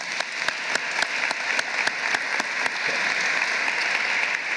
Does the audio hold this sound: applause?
yes